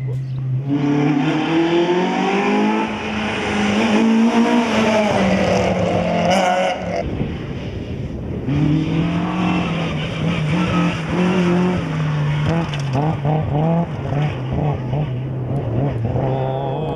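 Rally car at speed on a stage of the Boucles Claviéroises 2017 rally, its engine revving up and down continuously and loud throughout, with gear changes, brief tyre squeal and a voice talking over it at times.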